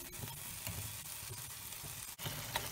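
Tomato and onion sauce sizzles steadily in a pan, a close, even frying hiss with faint stirring scrapes and no talk.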